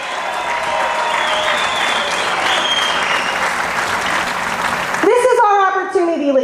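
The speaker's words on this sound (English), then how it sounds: "So big round of applause for him." Crowd applause at a Tea Party rally in St. Charles, Missouri: dense, steady clapping for about five seconds, then a speaker's voice takes over as the clapping fades.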